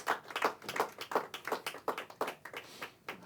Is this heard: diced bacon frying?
no